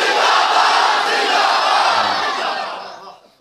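Loud crowd roar of religious slogans at a Chehlam gathering, many voices shouting together in a sustained, dense wall of sound that fades away near the end.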